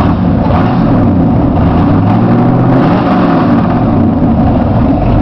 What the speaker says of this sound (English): It's basically just 2 1/4 exhaust and straight out the back, true dual.